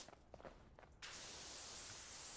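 Quiet clatter and movement give way to a pressure washer in Powerwash Simulator 2 suddenly starting, a steady, loud hissing jet of water that continues without a break.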